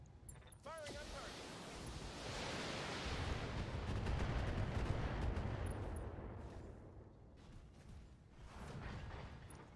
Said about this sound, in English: Firing on target.